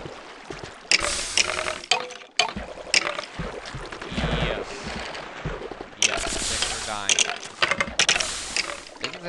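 Mobs die in a Minecraft lava grinder farm, heard as bursts of clicking, crackling and rattling game sounds in uneven clusters with short quiet gaps between them.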